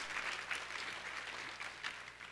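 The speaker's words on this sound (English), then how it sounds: "Huge round of applause right away for that." Faint, steady audience applause for school drama costumes during a curtain call and finale, a soft continuous patter of many hands with no voices.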